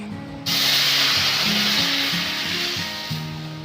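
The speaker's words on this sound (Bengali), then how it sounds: "এরপর এখানে সেদ্ধ করে রাখা ছোলা বুটের ডালগুলো দিয়ে দেবে" Boiled chickpea dal goes into a hot pan of browned ingredients and sets off a sudden loud sizzle that holds as a broad, steady hiss, with background music playing throughout.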